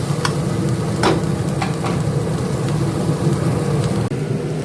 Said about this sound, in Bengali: পেঁয়াজটা ভাজা হোক